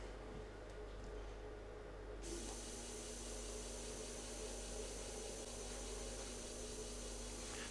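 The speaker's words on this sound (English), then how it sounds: "I'm going to start the disc spinning" A floppy disk spins up in its drive, and the steady whirring motor hum shifts and thickens partway through, then holds as a constant mechanical drone.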